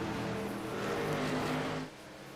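Race trucks at Gateway, a droning pack of engines roaring past at a distance, steady harmonic hum that fades off near the end, moderately faint, with no talking.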